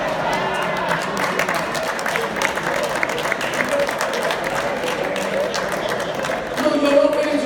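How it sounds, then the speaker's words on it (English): Audience applauding a speaker at a gathering on Igbo development; sustained, even clapping from many hands fills the whole stretch, swelling slightly near the end. "as you clap for me now"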